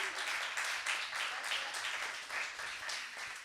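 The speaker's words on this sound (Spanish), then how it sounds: "Un aplauso." Audience applause at a panel talk, a steady spread of many hands clapping that swells and eases slightly, moderately loud, with no talk over it.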